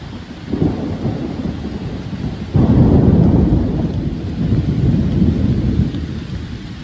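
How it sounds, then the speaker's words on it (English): Rain pours steadily while deep rumbles of thunder roll through, swelling suddenly loud partway and lingering as a low growl. "There's the rain."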